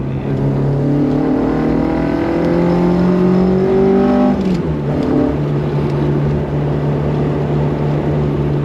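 A Ford Escort drives along with its engine revving up through a gear in rising tones, then drops and settles into a steady drone, loud and close from inside the cabin.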